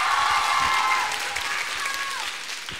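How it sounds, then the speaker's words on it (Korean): A fan meeting audience applauds Song Kang with dense, loud clapping that fades slightly over a few seconds, and a faint voice comes through the crowd noise. "정말 몸을 불사한 우리 송강 씨에게 큰 박수 보내주시고요"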